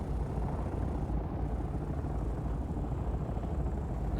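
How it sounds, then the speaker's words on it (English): Helicopters flying overhead in the Dune Awakening video game, a low, throbbing rotor rumble that holds steady and fairly loud across the few seconds, with no speech over it. "All of the helicopters above us."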